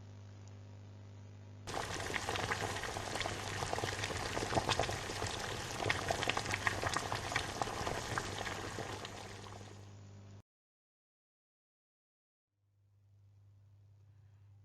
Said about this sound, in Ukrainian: Приніс троль води, і вони зварили велетенський казан каші.